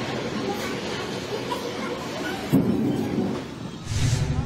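Deep thunder rolls through a rough, windy background after a tornado in Bacolor, Pampanga, with a louder rumble swelling midway and another near the end, under faint voices.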